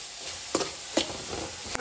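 Onions frying in a pan with salt, red chili powder, homemade garam masala and turmeric, giving a steady close sizzle broken by a few soft stirring scrapes.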